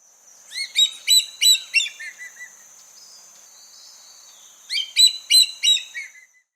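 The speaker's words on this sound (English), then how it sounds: "Hawk." A hawk calling in two bursts of rapid, high, sharp chirping notes, about four or five each, separated by a quieter stretch with a faint thin whistle, close and clear with no other sounds.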